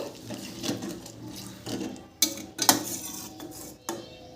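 A pumpkin, potato and chickpea curry stirred in a pan with a little water, a spoon scraping and clinking against the metal in several irregular knocks, close by and with no talk.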